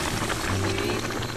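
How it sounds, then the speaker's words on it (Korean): A pot of pork and potato stew bubbles at a steady rolling boil over an outdoor hearth, a continuous soft gurgling hiss up close. "와, 잘 끓는다."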